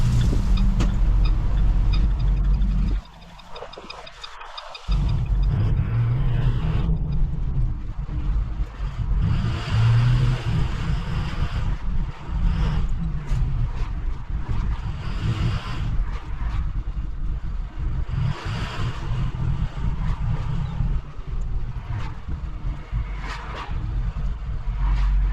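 An International Terrastar truck drives along back roads. Its engine drones loud and steady for the whole stretch, with a brief dip early on and no talking.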